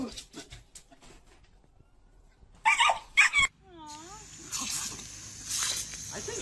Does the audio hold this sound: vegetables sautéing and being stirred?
no